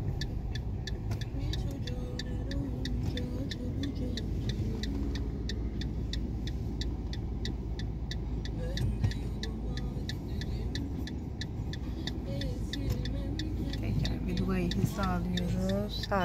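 A car's turn signal ticking in a steady fast rhythm inside the cabin during a driving lesson, running under continuous engine hum and an instructor talking.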